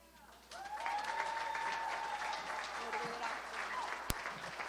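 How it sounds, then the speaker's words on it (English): Sustained round of applause from an audience at a Detroit City Council award presentation during a ribbon cutting, steady clapping filling the room with a brief voice and a sharp click near the end. "just round of applause to our CEO"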